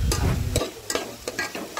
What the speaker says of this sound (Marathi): आणि हे टाकल्यानंतर हे प्रॉपर हलवून घ्यायचं आहे